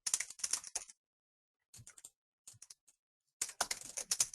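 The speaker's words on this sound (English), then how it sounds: "Excuse my typing." Rapid clatter of keys on a computer keyboard comes in bursts of quick typing separated by pauses, close and crisp with no voices.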